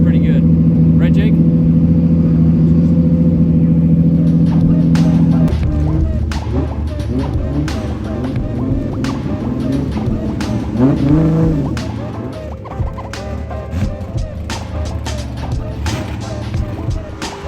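A race car at a track event, its engine held at a steady high drone before revving up and down in uneven surges, punctuated by sharp clicks and pops, loud and close.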